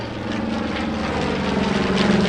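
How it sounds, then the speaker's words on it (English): A World War II B-25 bomber flies past at an airshow in Terre Haute. Its propeller engines roar in a loud, continuous drone that builds slightly as the plane comes by. "The B-25, another one coming by."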